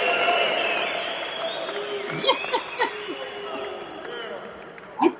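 Canned applause and cheering from a studio applause track plays over a lively crowd bed, with a few sharp whoops and laughs popping out, fairly loud and close, mixed with brief talk.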